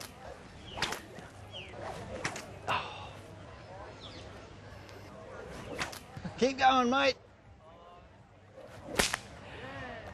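A bullwhip being cracked during a lesson in the Australian outback gives a few sharp cracks and swishes, with one louder crack near the end, while someone speaks briefly and a dog barks faintly.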